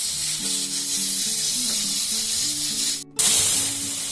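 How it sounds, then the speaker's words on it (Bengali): Warm water poured into a pan of sizzling egg curry gives a loud, steady spraying hiss under soft background music, cutting out briefly near the end before the hiss returns. "এখন দিয়ে দেবো 1 কাপ উষ্ণ গরম জল।"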